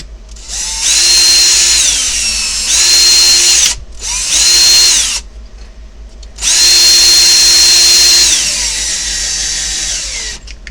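A power driver whirs in loud, repeated bursts with brief pauses, driving Allen-head screws into a plastic part while assembling a Tekno EB48 RC buggy, the motor pitch shifting as each screw seats.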